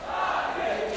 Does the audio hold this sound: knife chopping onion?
no